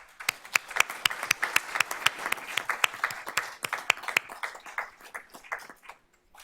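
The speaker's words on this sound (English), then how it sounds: "We applaud our fine arts team for championing the arts for our students and community." Applause from the audience at a school board of trustees meeting, a modest crowd clapping with distinct individual claps audible, lively at first and thinning out toward the end over roughly six seconds.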